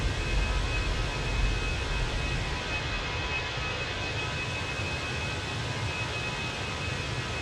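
Fenix A320 airliner in Microsoft Flight Simulator climbing out after takeoff with gear retracting, a steady broadband engine roar with low rumble, constant and unbroken throughout.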